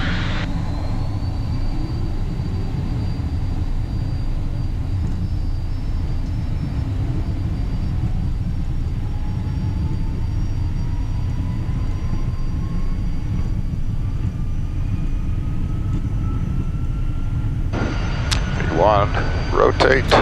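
A small jet rolls for takeoff on a solo flight from Miami to Naples, with a loud, steady engine roar and rumble heard from the cockpit, rising tones building through the run and a burst of noise near the end.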